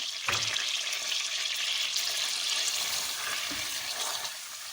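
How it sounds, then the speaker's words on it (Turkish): Onions sizzle softly in oil, a quiet steady crackle broken by a couple of brief clinks or stirring sounds. "Soğanımız güzelce kavrulsun"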